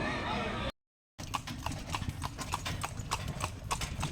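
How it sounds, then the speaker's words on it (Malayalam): A horse walks with a steady clip-clop of hooves on a paved path during a paid tourist ride near Pothundi Dam in Palakkad, the evenly spaced hoofbeats close and clear over outdoor background noise after a brief silent gap. "കുതിരയാണ് ഞങ്ങളെ കൊണ്ടിട്ട് ഇങ്ങനെ ഈ മനോഹരമായിട്ടുള്ള ഈ വഴിയിലൂടെ അങ്ങനെ പോയിക്കൊണ്ടിരിക്കുന്നത്"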